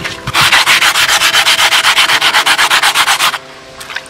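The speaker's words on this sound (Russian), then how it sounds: "Наждачка у меня крупная." Coarse sandpaper rubbing red brick being shaped into a decorative relief tile, a fast steady rhythm of about two dozen loud scraping strokes, close up and alone, stopping abruptly near the end.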